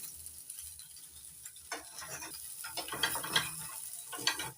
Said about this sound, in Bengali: আলুর গাটা একটু হালকা করে ভেজে নেব।